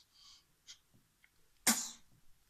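A single sharp human sneeze bursts out close and loud after a few quiet breaths and small mouth sounds, then fades quickly.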